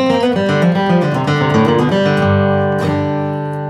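A bluegrass flatpicking lick on acoustic guitar runs two bars of quick, bright picked single notes, close and clean, ending on a ringing held note with no talk.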